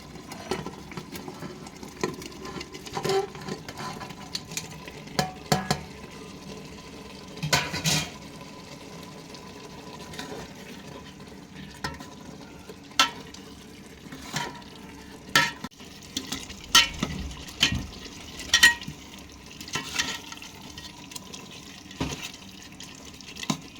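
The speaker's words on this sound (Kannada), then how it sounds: "ನೋಡಿ ಈ ಥರ ಕುದೀತಾ ಇದೆ" A pot of chicken curry bubbles and simmers with soft irregular pops and gurgles, broken by occasional clinks and stirring sounds, no voices.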